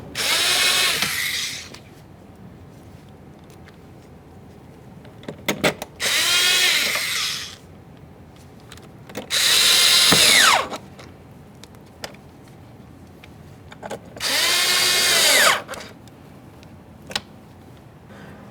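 A power drill drives in the mounting bolts for a 2015–2020 Ford F-150 front exterior door handle in four loud close bursts of about two seconds each, some rising in pitch, separated by quiet pauses with small clicks.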